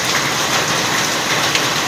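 Heavy rain pours at night, an even, loud, continuous hiss of dense drops with no voices.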